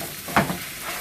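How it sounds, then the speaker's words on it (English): Steak fried rice with vegetables sizzles in a hot pan as it is stir-fried. A sharp scrape and hiss of the stirring rises briefly over a steady close frying crackle. No voices. "sizzle, sear, and fry."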